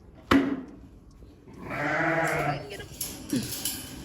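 Sheep on a farm bleat several times, close and fairly loud, with one sharp call and a longer, wavering bleat followed by a few shorter cries.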